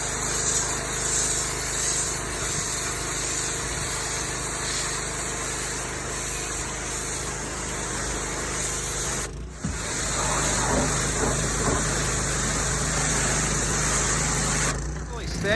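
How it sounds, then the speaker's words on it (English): Soapy water spraying steadily into the bed of a 1986 Dodge D-150 pickup, a loud continuous hiss with a brief break near the middle, engine-like rumble underneath. "soak that bed down, use our Clorox or combination soap, get it all sprayed out"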